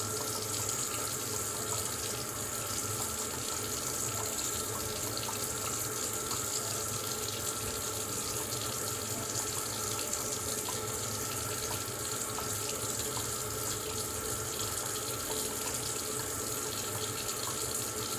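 Tap water runs steadily into a sink while shaving soap is lathered, giving a constant close splashing rush with no breaks.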